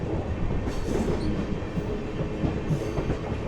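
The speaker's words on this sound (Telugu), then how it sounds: "ఈ ట్రైన్ మన ట్రైన్ ఓవర్టేక్ చేయబోతుంది, ప్యారల్ ఓవర్టేక్." A Nagercoil-bound special train from Chennai rolls past on a parallel track, a close, steady rumble of wheels and rhythmic clickety-clack on the rails with no talking.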